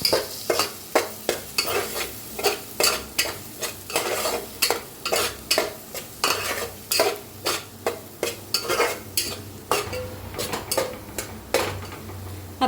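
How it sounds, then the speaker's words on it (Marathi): Coriander powder and chana masala being roasted in a pan for chole, a steady run of regular scraping spatula strokes over a soft sizzle, close and fairly loud, with no talking. "आता याला चांगलं भाजून घेऊया."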